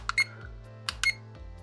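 AliExpress digital alarm clock emitting short, bright electronic beeps in two quick pairs, near and clear over a faint low hum.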